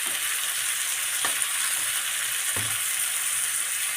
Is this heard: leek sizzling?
yes